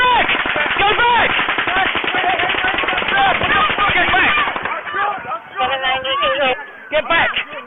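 Rapid automatic gunfire on Las Vegas Boulevard, fired from the Mandalay Bay, crackles in long dense bursts, then breaks into shorter volleys with gaps, while people shout and talk beneath the shooting.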